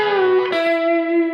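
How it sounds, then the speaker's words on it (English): Country electric guitar lick built on a steel-guitar-style string bend, one sustained note bending while a second note rings, heard up close and fairly loud on its own. "which is just a classic kind of steel guitar sounding bend."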